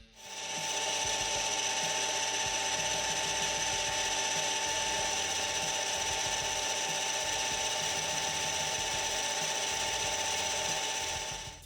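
Brass stock turns on a metal lathe while the workpiece for machinist's V-blocks is cut, a steady loud machine hum with bright whining tones and a rapid textured chatter of the tool running throughout, no voices.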